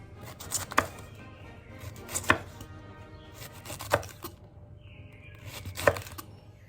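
A knife slices artichokes into thin strips on a cutting board, giving quiet clusters of rapid cuts broken up by four sharper, louder chops at irregular intervals, close and alone.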